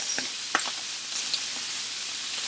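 Italian sausages fry in a pan with a bright, continuous sizzle, broken by light scrapes and taps as they are stirred around, close and fairly loud.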